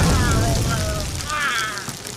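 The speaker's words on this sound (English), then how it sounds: "The explosion is beginning." An explosion in an anime adaptation of JoJo Phantom Blood, heard as a loud rumbling boom with rolling low roar and whistling tonal sweeps laid over it, sustained and slowly fading.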